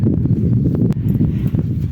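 Dull, muffled thuds of a mare's hooves plodding at a walking pace close by, with a low rumbling background.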